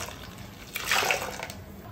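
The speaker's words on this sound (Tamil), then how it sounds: "நான் அப்படியே போட்டு தண்ணி ஊற்றி மிக்ஸ் பண்ணிக்க போகிறேன்" Water poured into a ground mixture for pani puri water, a short splashing pour of about a second that rises and fades, close and moderately loud over faint background noise, with no talking.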